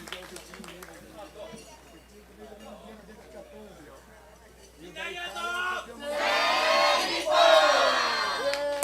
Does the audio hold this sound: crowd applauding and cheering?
yes